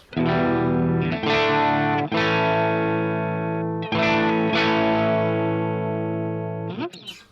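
A clean electric guitar strums sustained chords through a Vox AC15 valve amp, each chord ringing out warmly with a slight shimmer before the next.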